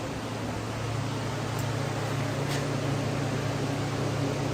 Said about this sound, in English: There's a loud fan in this place.